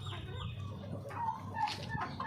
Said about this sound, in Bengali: দেখছেন, দেশি মুরগি।